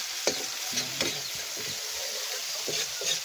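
A knife stirs a batch of cooked edible snails (buko) in a pot, giving soft scattered scrapes and wet clicks over a steady hiss.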